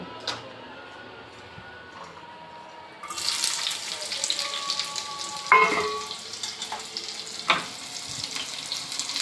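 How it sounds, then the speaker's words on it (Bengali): Onion and garlic fry for a dal tempering, a steady sizzle that swells partway through, with faint water and clinks of stirring close by and no speech. "আর এখন ডালের জন্য বাগার দিয়ে দিব"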